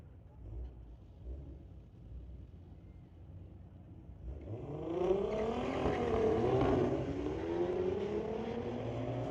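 Two Volkswagen street-legal drag cars, one of them a 2004 model, launch down the strip at Mission Raceway Park, engines rising from a distant rumble into a loud, climbing rev that holds steady, with faint commentary underneath.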